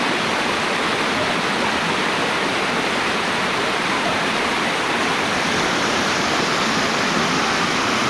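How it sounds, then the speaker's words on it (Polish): A mountain waterfall on Szrenica roars steadily and close, a dense, unbroken rush of falling water with no pauses and no voices over it. "To jest ten wodospad?"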